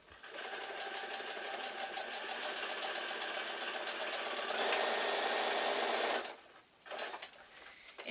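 A sewing machine stitches a quilt block in a steady, fast run of needle strokes for about six seconds, close and loud, then stops, with a brief burst of stitching afterward.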